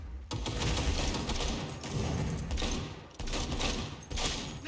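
Loud game gunfire from Cyberpunk 2077, rapid overlapping shots and rattling automatic bursts broken by brief gaps, harsh and close throughout.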